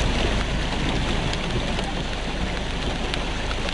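Heavy rain during destructive storms with flash flooding in Arkansas, a loud, dense, unbroken roar of falling water filling the whole clip.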